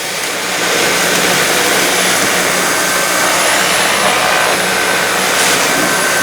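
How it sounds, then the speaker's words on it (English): A Dyson V8 cordless vacuum cleaner runs on high power, a loud steady whining whoosh that rises at the start and then holds evenly close by, with no talk. "It's like a precision vacuum cleaner."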